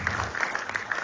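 An audience at a music video launch event bursts into a short, dense round of clapping, close and loud.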